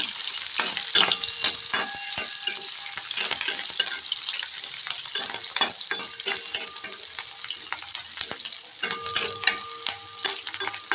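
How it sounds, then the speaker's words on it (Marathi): Chopped onion with curry leaves frying in a pan for a cowpea pod curry, a steady bright sizzle with frequent clicks and scrapes of a spoon stirring, close and continuous with no voices. "आणि कांदा ॲड केला आहे आणि कांदा छान तळून घ्यायचं"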